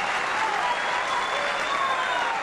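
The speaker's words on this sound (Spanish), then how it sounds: "Un aplauso para los amigos Roberto" Applause from an audience at a national gathering of agrarian communes, a steady dense wash of clapping sustained throughout without pause.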